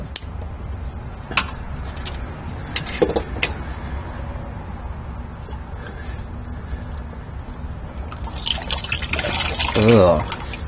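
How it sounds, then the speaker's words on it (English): Engine oil draining from a car's drain plug into a drain pan during an oil change, a steady close liquid trickle with occasional drips and clinks, swelling near the end, while someone talks over it. "Try to position the pan there so it'll keep catching the oil from the drain plug while I take the filter off."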